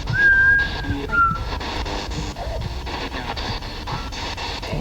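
A short whistle sounds during a ghost hunt in an old arts theatre, two brief high tones near the start against a busy, noisy background of room sounds and movement.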